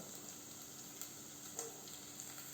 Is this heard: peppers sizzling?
yes